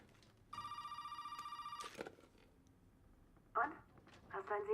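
Electronic telephone bell in the survival-horror game Resident Evil 7: Biohazard rings in one steady pulsing burst of about a second and a half, followed by quieter in-game noises and other electronic tones.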